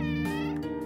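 A cat in the video game OneShot gives one drawn-out, tonal meow with rich harmonics, close and clear over steady background music.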